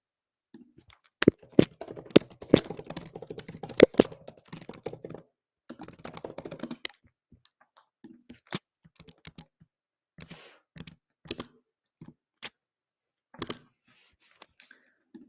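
Typing on a computer keyboard: scattered quick clicks and short bursts of keystrokes, close and fairly quiet, with pauses between runs and no talking.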